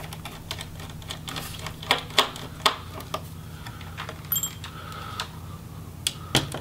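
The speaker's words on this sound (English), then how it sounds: "now we just have to remove the hinge screws" Hinge screws are being removed from an HP Pavilion 17 laptop, giving light irregular clicks and small taps of a screwdriver against the chassis over a low hum, close up and without talk.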